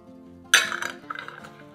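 Hot glass jam jars clink as they come out of the oven, one sharp glassy knock followed by a few lighter rattling taps, close and fairly quiet.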